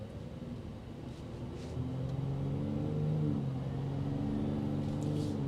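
The engine of a 2025 Ford F-150 Raptor in quiet mode, heard from inside the cabin during a test drive as a low, muted rumble that swells as it accelerates, with no one talking.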